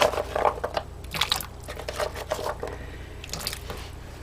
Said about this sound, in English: So now I'm going to add some potatoes and carrots to each pot